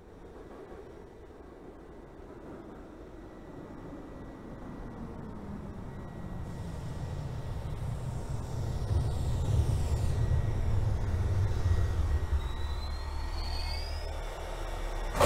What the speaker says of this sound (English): This is a Bronx-bound 6th local train.